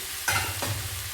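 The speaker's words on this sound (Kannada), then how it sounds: "ಮಂಡಕ್ಕಿನ ಸೇರಿಸ್ಬಿಟ್ಟು ಚೆನ್ನಾಗಿ ಮಿಕ್ಸ್ ಮಾಡಬೇಕು." Puffed rice (mandakki) being stirred into a hot seasoning in a pan for a North Karnataka-style oggarane, giving two quick scraping, rustling strokes over a faint sizzle, close and with no voices.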